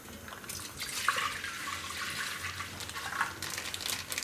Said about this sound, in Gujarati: તો બધું દૂધ આપણે આમાં કાઢી લેવું